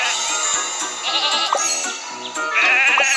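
Cartoonish sheep bleat several times over bright, bouncy music in a Thomas & Friends video game, the calls rising and wavering in quick succession.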